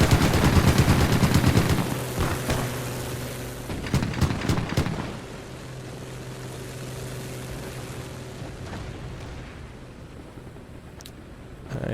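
Aircraft strafing fire in the WWII game Gates of Hell, with loud dense bursts of rapid gunfire over the first two seconds and again around four to five seconds, then a steady droning engine hum under scattered distant shots.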